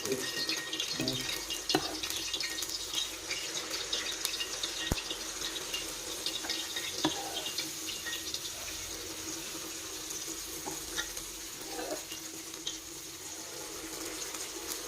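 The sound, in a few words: pouring unniyappam batter into hot oil in appam pan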